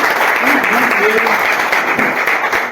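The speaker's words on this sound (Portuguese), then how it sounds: "Eu quero que você dê uma salva de palmas bem grande para" Broadband applause from a church congregation fills the space steadily, with a voice speaking briefly over the clapping.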